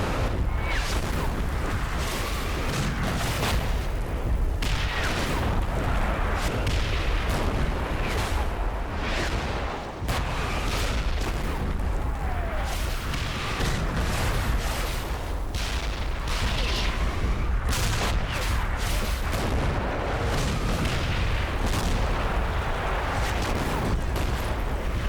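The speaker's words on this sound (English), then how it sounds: "A German artillery barrage starts to fall across my picket forces." A German artillery barrage in the Combat Mission video game, Operation Epsom's Odon Bridges battle, rumbles without pause as dense overlapping booms and blasts roll on for the whole stretch, loud and unbroken, no talk.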